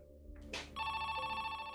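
A telephone rings at a gas station at night, a clear electronic ring that starts partway through and holds steady, close and moderately loud with no talk over it.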